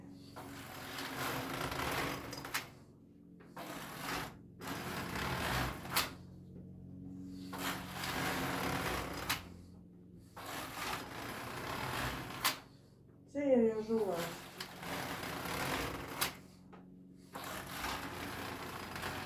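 A Singer domestic knitting machine knits thin wool yarn in bursts of rapid mechanical clatter and carriage sliding, separated by short pauses, close and moderately loud with quiet talk in places.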